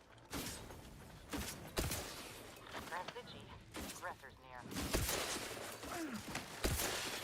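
A video game gun fires a few sharp, quiet cracks spaced apart, mixed with mechanical clicks and creaks under a steady stream of talking.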